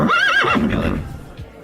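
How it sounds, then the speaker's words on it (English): A horse whinnies loudly and close by, a long, wavering, descending neigh with a breathy snort trailing off at the end. "And I got my horse Nelly"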